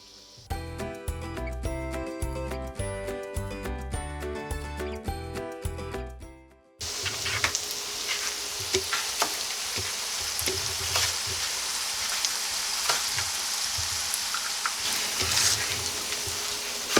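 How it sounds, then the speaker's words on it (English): Potato pancakes fry in a pan with a steady, close sizzle and crackle running through the last ten seconds, after a stretch of music at the start. "While your pancakes are cooking"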